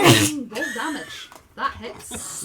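A sharp sneeze bursts out at the start, followed by people talking.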